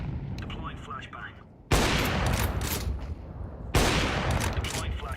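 A flashbang grenade going off in a video game, two sudden loud bursts each followed by a sustained ringing wash.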